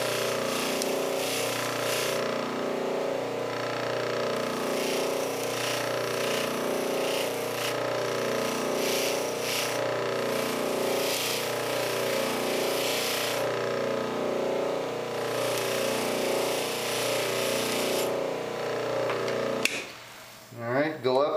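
A spinning buffing wheel polishes the button of a tobacco pipe stem, giving a steady, droning whir with a rhythmic rubbing pulse that runs unbroken for about twenty seconds before cutting off into a brief clatter.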